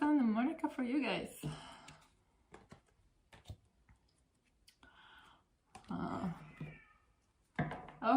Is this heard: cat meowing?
yes